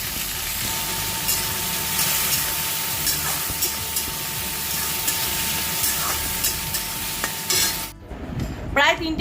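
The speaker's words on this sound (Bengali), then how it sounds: "আমি সবজিগুলো কেটে রেডি করে ফ্রাইড রাইসটা বানাই" Vegetables for fried rice stir-fry in a pan with a constant close sizzle and repeated scraping stirs, ending with a few knocks and clatters as the cooking noise drops away.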